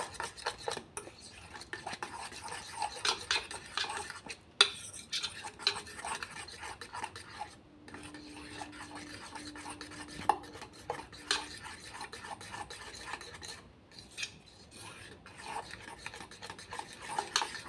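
Batter for a quick snack stirred in a bowl with a utensil, soft repeated rubbing and scraping strokes with brief pauses, fairly faint and close, with no talking.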